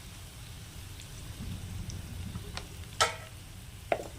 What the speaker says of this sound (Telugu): ఇప్పుడు అల్లం వెల్లిగడ్డ కొంచెం ఫ్రై అయ్యాక ఇప్పుడు మనం కారం వేసుకుందాం